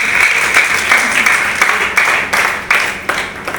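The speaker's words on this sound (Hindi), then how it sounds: "एक बार जोरदार ताली हो जाए इस बात।" A seminar audience at a business event claps loudly and continuously, with bursts of applause that rise and fall across the crowd.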